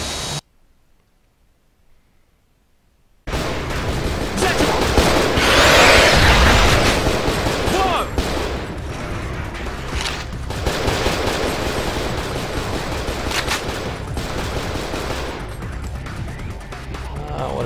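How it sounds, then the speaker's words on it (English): Lasers or bombs strike the ground in the game Cold Fear: after a few seconds of silence, a dense, continuous barrage of loud blasts and crackling impacts rolls on without a break, peaking early and then holding steady. "So are these, like, lasers instead of bombs?"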